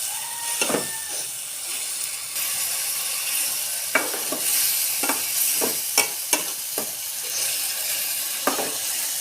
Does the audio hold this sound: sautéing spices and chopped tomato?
yes